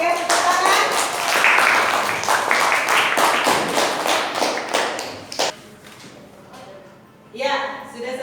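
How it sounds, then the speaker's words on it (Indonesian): Students in a classroom clap together after a group presentation, a sharp rhythmic burst of clapping that fades after about five seconds, followed by quieter voices and a brief scattered return of claps and chatter. "Oke, tepuk tangan."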